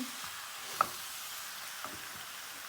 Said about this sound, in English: And then we're going to add in mushrooms and tomato.